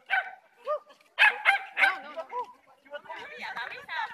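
A Border Terrier at an agility trial gives several sharp, high barks and yips in quick bursts, close to the microphone, with people talking around it.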